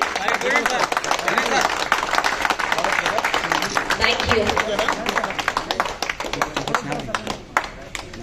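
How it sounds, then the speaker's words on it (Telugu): An audience at a gathering of 1994–97 BA alumni claps steadily in dense, sustained applause with sharp overlapping slaps throughout, thinning slightly toward the end, while a voice talks over it. "క్లాప్స్ అండి, కీప్ క్లాపింగ్ కీప్ క్లాపింగ్."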